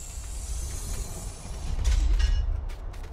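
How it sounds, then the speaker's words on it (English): Dome airlock door opening on a Mars terraforming map in Farming Simulator 19, a low rumbling mechanical whoosh that swells midway, with hissing bursts of air toward the end. "Open the door."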